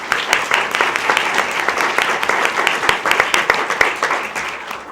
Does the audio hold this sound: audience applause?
yes